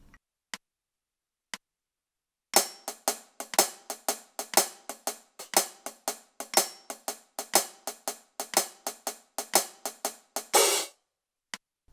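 Drum sticks tapping out a hip-hop shuffle in swung sixteenth notes on a 90's R&B groove, crisp dry clicks in a steady lilting rhythm after a few isolated count-in taps, close and alone.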